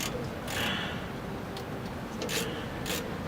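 A hex wrench turning a brake caliper bolt on a 2005 Ford Expedition's front brakes gives scraping, ratcheting metal clicks in short bursts over steady background noise, close by, with no voices.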